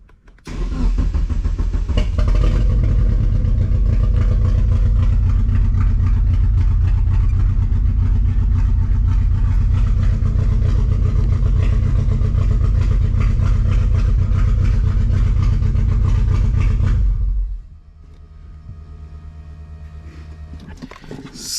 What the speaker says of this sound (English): We're going to be cranking it right now, so best of luck.